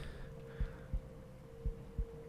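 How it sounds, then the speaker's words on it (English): Heartbeat effect in the horror game Minds Eyes, with two pairs of deep, soft lub-dub thumps over a low constant electrical hum, close and muffled, with no talking. "it's my heartbeat"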